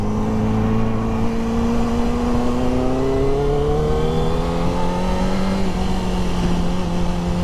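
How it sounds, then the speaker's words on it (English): A Yamaha R1 motorcycle engine revs steadily upward in pitch, loud and close, as a continuous rising drone with a strong whine over wind rush, then eases off slightly near the end. "You gotta rev this thing to the moon before it starts building power."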